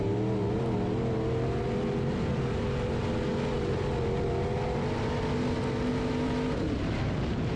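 A B Mod race car on the Springfield Raceway track in Missouri, its engine droning loud and steady in a sustained high-revving roar with a slight pitch drop near the end, and no voices over it.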